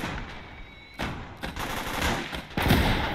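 Gunfire in the WWII video game Gates of Hell: Ostfront, several sharp shots and bursts over a continuous battle din, fairly loud and close, with no speech.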